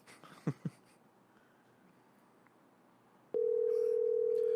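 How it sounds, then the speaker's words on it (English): An unanswered telephone call: a couple of short tones, a quiet stretch, then a loud, steady dial-type tone that comes in abruptly and holds to the end, with no voices. "On this episode of Nobody Answers Chad's phone call"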